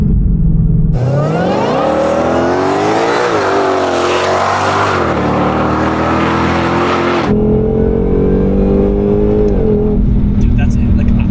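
A Ford Shelby GT500 S550 accelerates at speed, its engine roaring loudly and climbing steadily in pitch, easing off and then building again. A person speaks over the engine noise.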